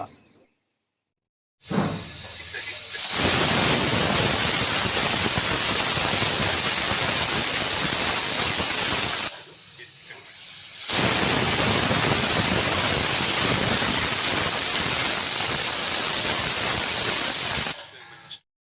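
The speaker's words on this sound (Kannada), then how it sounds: "ಈಗ 2 ವಿಷಲ್ ಆಗಿದೆ" A pressure cooker cooking vangibath lets off two long, loud hissing whistles of steam, each lasting several seconds, separated by a short pause and followed by a brief third burst at the end.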